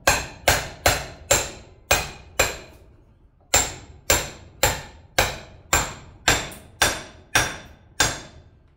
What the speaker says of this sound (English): I've just got 1⅞ inch socket here. I'm just going to tap it home.